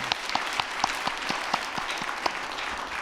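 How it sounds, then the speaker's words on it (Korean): A church congregation applauds during a Sunday afternoon service honoring ministry workers, steady dense clapping filling the room with sharper individual claps standing out, no talking over it. "박수로 격려해 주시기 바랍니다"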